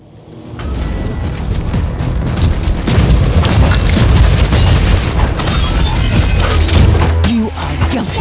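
A heavy grenade blast in Warhammer 40,000: Inquisitor - Martyr opens a long, loud, rumbling roar of explosions and crashing debris. It runs dense and sustained throughout.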